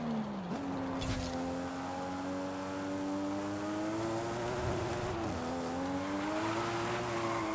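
A car engine in Forza Horizon 5 held under steady throttle through a corner, a continuous droning tone that dips briefly and climbs slowly, with faint tire noise beneath.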